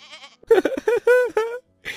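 A goat bleats several times up close, loud wavering cries in short bursts with brief pauses between them.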